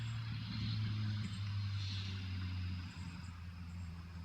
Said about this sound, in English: I hear the sound of the nearby road where cars drive by.